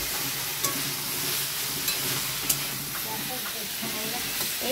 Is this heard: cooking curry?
yes